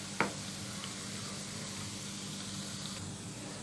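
Spicy nimki frying slowly in oil on a medium flame, a continuous close hissing sizzle with a quick scrape of a spatula near the start.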